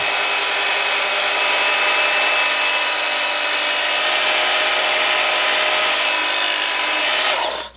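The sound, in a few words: Work Sharp belt grinder sharpening a hollow grind hunting knife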